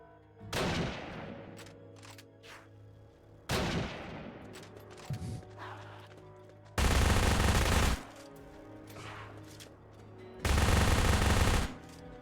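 A gun in a zombie game fires in several loud bursts separated by pauses: two shorter volleys followed by two dense, sustained rattles of automatic fire, all close, with no talking.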